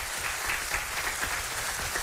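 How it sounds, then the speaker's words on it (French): A studio audience at a French TV quiz show applauds in a dense, steady wash of clapping that stays even throughout and is heard alone, without talk. "on l'applaudit"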